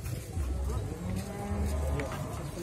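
Large cattle are unloaded at a cattle contest in Grabak, Magelang, with low, close moos and lowing amid busy crowd noise. People talk throughout.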